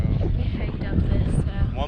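Steady wind roaring and buffeting against the microphone on a hiking trail in Arches National Park, a constant low rumble with people talking faintly underneath.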